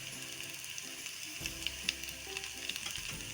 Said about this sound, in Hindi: अब इसमें हम कटा हुआ लहसुन डाल देंगे।